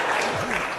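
A burst of recorded crowd applause and cheering plays on a radio talk show, loud and continuous for under a second, with a voice sliding over it.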